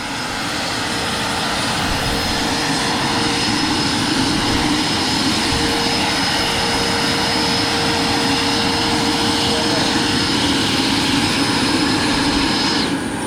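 Electric ducted fan of an RC MD 600N helicopter whining steadily at high speed, a loud, close, continuous turbine-like roar with a sustained high tone that cuts out abruptly near the end.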